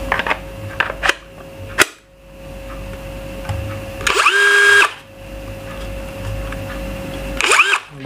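A HUJIA battery-powered cordless drill, rated 11000 RPM, whirs in two short bursts with a high steady whine, separated by clicks and handling noises in a quiet room.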